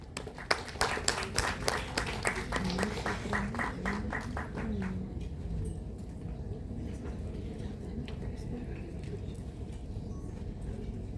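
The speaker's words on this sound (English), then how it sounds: "So, with a huge round of applause, let's welcome Shubhi Vaya." An audience at a talk event breaks into applause welcoming a speaker, a dense burst of clapping for about five seconds that then fades into quiet room tone.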